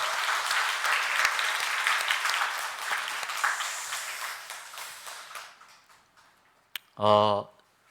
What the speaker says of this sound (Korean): 우리 중고등부 청년부에 다시 한번 큰 격려와 축복의 박수 하겠습니다.